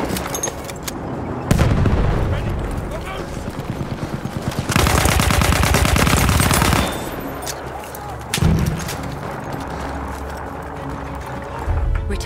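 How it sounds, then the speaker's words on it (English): An enemy artillery barrage in the Battlefield 1 video game pounds with heavy rolling booms and rapid fire, swelling into a loud, sustained burst in the middle before settling back into rumbling battle noise. "Wait for the enemy artillery barrage to stop firing."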